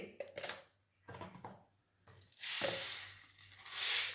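Mustard seeds sizzling and popping in heated sesame oil, followed by urad dal, chana dal and dried red chillies for an idiyappam seasoning: scattered crackles and pops early on, swelling into a loud, steady hiss of frying toward the end.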